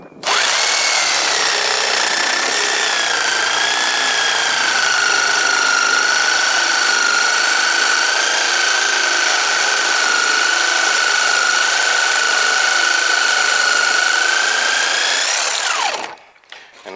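A jigsaw cuts through wood trim in one long, loud, steady whine lasting about sixteen seconds, then stops abruptly with a few faint clunks afterward and no talk.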